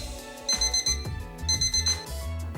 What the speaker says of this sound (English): such as the alarm clock,